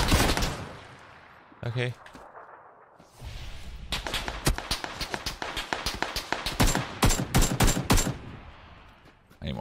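Gunfire in the video game PUBG, including a KAR98 rifle, cracks in rapid sharp bursts, with scattered shots and a dense volley toward the end, while a player speaks briefly.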